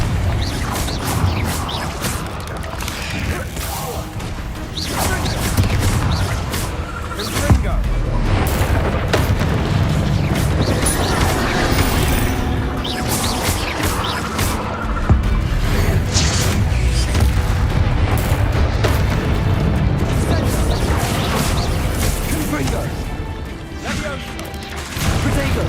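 Confringo fire spells and other combat magic burst in Hogwarts Legacy gameplay, a loud, dense run of booms and crashing blasts layered over a continuous game soundtrack, with voices briefly cutting in.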